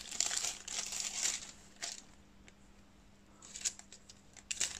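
A plastic-wrapped Halloween nail foil packet being opened, with close crinkling and rustling of thin plastic in uneven bursts, quieter in the middle and picking up again toward the end.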